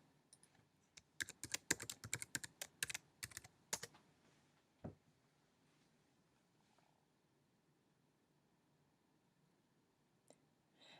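A computer keyboard taps out a login ID and password in a quick burst of crisp, close key clicks over about three seconds, then a single later keystroke and a few faint clicks in near-silence.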